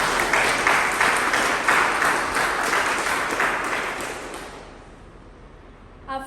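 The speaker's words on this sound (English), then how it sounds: "So a huge round of applause to both our speaker as well as our evaluator." A round of applause for a speaker and an evaluator at a club meeting: dense, steady clapping from a room of people that fades away toward the end, leaving near silence.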